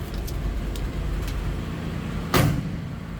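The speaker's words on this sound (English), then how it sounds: "Door closes nicely." A 1952 Ford F600 truck door shuts with a single solid thunk about two seconds in, heard over a low, steady background rumble.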